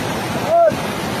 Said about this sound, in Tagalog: katong pinakadako na baha